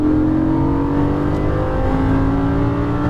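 A Lamborghini Gallardo engine drones loud and close while driving on a track in Las Vegas, a steady, strongly tonal hum with a slight rise in pitch across the stretch.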